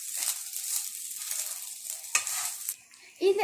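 A spoon stirs garlic rice seasoned with pepper powder in a hot pan, giving soft scraping and a light sizzle. A few sharper knocks come near the end.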